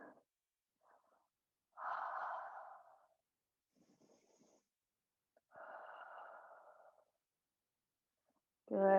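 Slow, audible breaths during a held dolphin pose in a yoga session, two long exhalations separated by quiet pauses, close and fairly soft, followed by a louder burst at the end.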